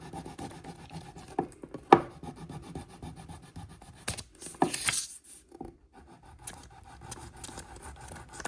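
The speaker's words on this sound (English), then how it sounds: "you want to take one of those flat sides and just rub it against your envelope" Flat side of a wax block rubbed back and forth over a paper envelope to rainproof the address, giving soft, close scraping strokes with a few sharper scuffs, alone without talk.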